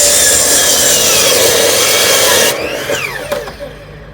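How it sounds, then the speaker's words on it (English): A chop saw slices through end grain wood in one loud, continuous cut before the blade spins down and fades over the last second and a half. "mark it here, and cut it with a chop saw"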